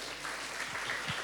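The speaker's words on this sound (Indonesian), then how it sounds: "Tepuk tangan dulu buat kalian" Audience applause at a book discussion event, a brief burst of steady clapping from a crowd.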